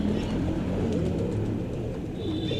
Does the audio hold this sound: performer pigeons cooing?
yes